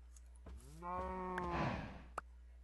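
A cow in Minecraft Feed the Beast gives one drawn-out moo after being dropped, quiet and close, followed by a short sharp thud.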